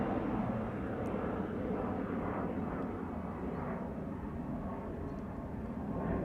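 An Airbus A321neo departing Amsterdam Schiphol for Manchester produces a quiet, distant, steady engine rumble that holds evenly throughout.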